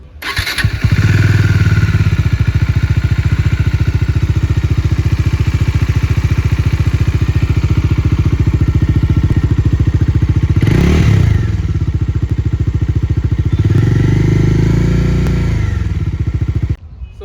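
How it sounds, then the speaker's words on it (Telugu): Bajaj Dominar 400 BS6 motorcycle from 2023 with a dual-barrel exhaust, idling loud and close with a deep, bassy thrum, then blipped twice into short rising revs before settling back to idle. "సో ఇప్పుడు మనం ఇంజన్ సౌండ్ అండ్ అలాగే ఎగ్జాస్ట్ సౌండ్ అయితే చూద్దాము."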